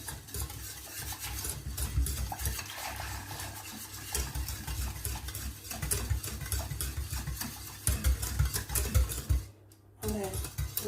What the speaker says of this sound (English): Now we're gonna stir it constantly